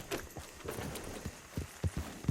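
Horse hooves clip-clop in Red Dead Redemption 2 in an uneven, trotting rhythm, growing heavier and closer toward the end, with faint background ambience.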